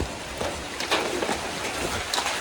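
Steady rain falls on a rural homestead where grass is being cut for cattle, a dense, even patter of drops spreading across the whole short stretch with no voices.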